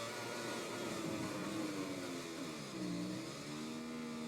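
A Ducati MotoGP bike racing in the rain in the MotoGP 20 video game, its engine a continuous mid-pitched drone whose pitch rises and falls through the turns, steady and fairly faint with no talk.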